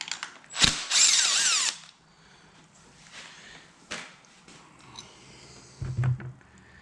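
A power tool whirs in a short burst on a hidden bolt of an abandoned 1968 Buick Skylark engine, followed by scattered metallic clicks, clinks and ratchet-like handling noises close by.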